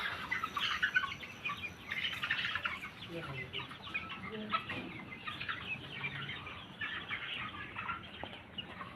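Chickens clucking and chattering together on a poultry farm, a busy flock sound close by with faint voices mixed in.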